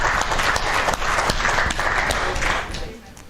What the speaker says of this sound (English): Round of applause for the lady of 20.